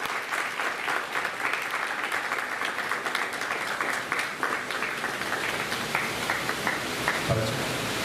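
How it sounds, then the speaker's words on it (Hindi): Audience applause for the actors after a play at a three-day theatre festival in Tikamgarh: steady, fairly distant clapping from a sizeable crowd for several seconds, with a brief voice near the end. "जोरदार तालियां इन कलाकारों के लिए।"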